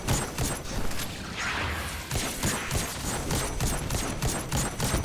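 Primary weapon fire in Destiny 2, delivered as a dense, continuous stream of rapid mechanical shots with crackling impacts, loud and sustained throughout.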